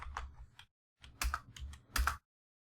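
Python code being typed on a computer keyboard, heard as close, crisp key clicks in two short bursts separated by a brief pause, ending in silence.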